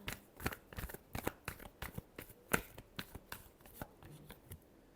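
A deck of tarot cards is shuffled close up with quick, soft riffling bursts and slaps in an irregular rhythm, with no talk over it.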